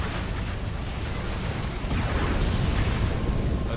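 Explosions and tank fire from a Halo Wars battle form a dense, continuous roar of blasts and rumbling booms that grows slightly louder partway through, with no talking.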